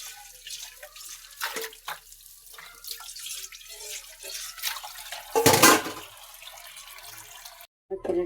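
Oil-fried fritters are washed under running tap water in a sink, with irregular gushing and splashing, brief drips and one loud burst of water before a sudden cutoff.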